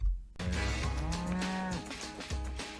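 A cow in a film's milking scene gives a loud, drawn-out moo close up, followed by a shorter lowing call, with no talk over it.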